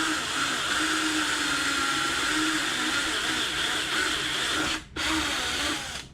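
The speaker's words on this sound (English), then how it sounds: "Just take your drill" Power drill running steadily as it drives bolts into a transtibial prosthesis during bench alignment, a loud continuous whine with a brief stop near the end.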